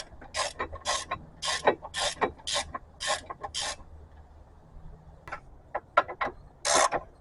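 A ratchet wrench tightens a brake caliper bolt on a 2011 Subaru Forester during a front brake job, giving bursts of quick, close clicking strokes with short pauses between them.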